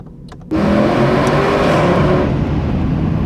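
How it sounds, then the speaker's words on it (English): A Mercedes-AMG C63 sports car engine fires up and revs hard, a loud, sustained roar rising and falling in pitch as gears shift, with no speech. "I think it's quite a good sounding car"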